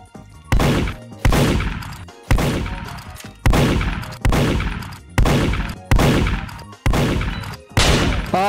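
Gunshots in the Roblox game Murder Mystery 2 ring out as eight loud, evenly spaced reports, each with a sharp attack and a ringing decay, alone and close.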